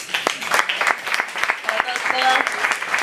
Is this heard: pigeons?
no